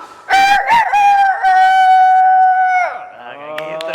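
A man mimics a rooster crowing, opening with a couple of short clucking bursts before drawing out one long, loud, close cock-a-doodle-doo call that trails off into a lower, rougher finish.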